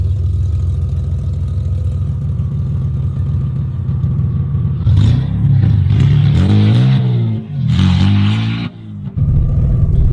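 A BMW six-cylinder engine in a low-budget drift car idles with a steady low rumble, then is revved hard a few times around the middle, rising and falling, before settling back to idle. No talk.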